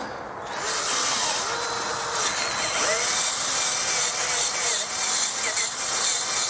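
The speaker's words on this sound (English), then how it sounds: "why are you using an Aldi drill for this job?" A cordless Aldi drill in use while repairing an abandoned arcade cabinet, starting after a brief pause and whirring steadily with rising and falling pitch and a rough grinding edge for several seconds, close and fairly loud.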